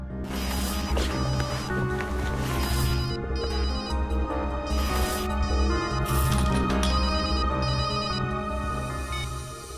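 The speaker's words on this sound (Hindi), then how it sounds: "फोन तो इस बैग में से बज रहा है" A mobile phone rings from inside a bag with a repeating electronic ringtone melody, steady and fairly clear for the whole stretch, with no one talking over it.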